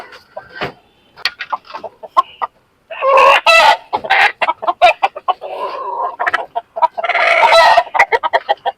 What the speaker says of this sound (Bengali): এর ভিতরে লাল মুরগিটা আমি এখন নিব